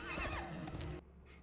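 A horse neighs loudly and close, with a rising and falling whinny lasting about a second, followed by quieter breathy snorting sounds with no voices over it.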